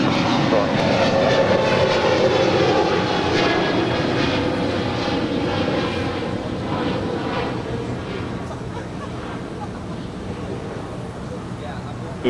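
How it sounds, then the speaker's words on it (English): An Eva Air Cargo Boeing 777 taxiing at Los Angeles International Airport, turning left onto a taxiway, gives a steady, broad jet engine roar that fades slightly over time, mixed with wind noise. "the Eva Air Cargo 777 heading, not going long, going short on us, making that left-hand turn on the Alpha 8"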